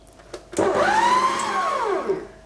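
A food processor starts up and spins sugar with vanilla sugar for rainbow cupcake batter, a loud whirring motor that rises in pitch, holds, then winds down, heard alone after a couple of brief clicks.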